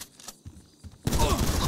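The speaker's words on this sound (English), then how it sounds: "He's shooting at me!" Rapid burst of gunfire in GTA 5 during a shootout on a property, starting abruptly after a quieter stretch and sustained loud and dense to the end.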